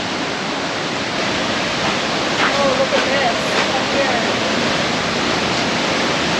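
Rushing water roars as a constant broadband wash, like a waterfall nearby in a cool canyon in Slovenia's Julian Alps, while a person briefly speaks over it.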